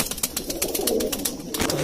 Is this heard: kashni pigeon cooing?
yes